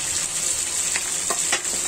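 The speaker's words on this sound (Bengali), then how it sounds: "দেখুন আমাদের মাছগুলো ভাজা হয়ে গিয়েছে।" Tilapia fish frying in hot oil in a wok, part of a tilapia and jackfruit seed dish, giving a steady close sizzle and crackle with a few soft stirring scrapes and no talk.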